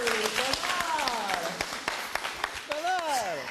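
Applause and scattered clapping at a slam poetry workshop run throughout while a voice talks over it, fairly close and steady.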